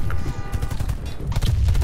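Gunfire in the video game Warface, with loud, close bursts of shots punching through game effects over a short stretch.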